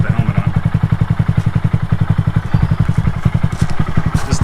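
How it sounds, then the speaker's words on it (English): A motorcycle engine with the muffler baffle removed runs loud and close in a steady, throaty, pulsing idle, the exhaust beat slightly rising partway through. "I took the baffle out of the muffler so it's louder"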